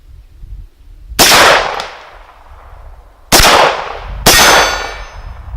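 A rifle fires three shots at a target while it is being sighted in with a red-dot sight. Each shot is a sharp, loud crack with a metallic clang from the hit, and the ringing tails off, spaced irregularly across a few seconds.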